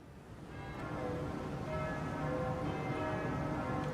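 Church bells ring in a Train Simulator game scene with a steam locomotive, a soft, steady peal of tolling tones that swells slightly and continues quietly throughout.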